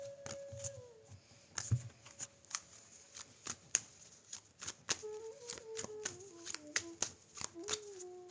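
A tarot deck is shuffled and cut by hand in repeated sharp riffles and slaps at an uneven rhythm, close and fairly crisp, while soft tonal sounds drift in the background.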